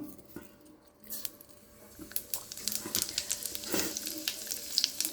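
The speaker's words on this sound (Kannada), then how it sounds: "ನೋಡಿ, ಈಗ ಸಾಸಿವೆ ಹಾಕ್ತಾಯಿದ್ದೀನಿ." Mustard seeds popping and crackling in hot oil while tempering for rice puliyogare, a steady sizzle with scattered sharp pops building up close by.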